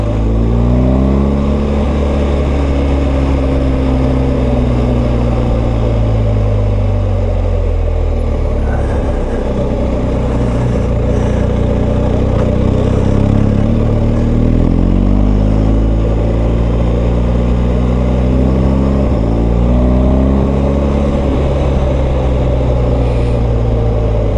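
A BMW R1250GS motorcycle engine pulls hard through several gear changes with a quickshifter, its loud close drone climbing in pitch, dropping at each shift and rising again, steady and continuous under wind noise.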